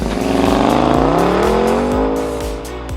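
A 2021 Porsche Cayenne GTS pulls away on a snowy road, its engine note rising steadily and loud and close, with tire hiss and a few brief scuffs underneath.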